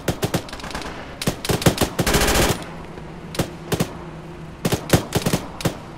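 A video game firefight in a tactical military simulation, with loud, close bursts of automatic gunfire. The shots come in irregular volleys, including one sustained burst, with single sharp shots scattered between them.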